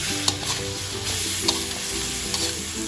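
Wild boar meat stir-frying in a hot pan for a spicy Thai curry stir-fry, a steady close sizzle with a few sharp spatula scrapes against the pan and no talking.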